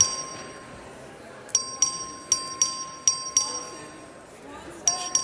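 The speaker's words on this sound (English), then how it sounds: "The clerk will ring the bell." A voting bell rung by the clerk in the Texas House chamber, a series of bright metallic dings repeating in an irregular rhythm, clear and fairly close over quiet room tone.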